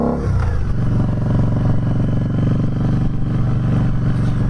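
A Harley-Davidson V-Rod Night Rod Special engine drones loud and close as the bike rides along through traffic, its steady throb accompanied by rushing wind.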